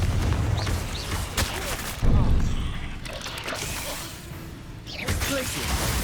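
Bursts of fiery magic from the Confringo spell in Hogwarts Legacy, a few booming whooshes and blasts spaced over a few seconds amid game combat noise, loud and punchy.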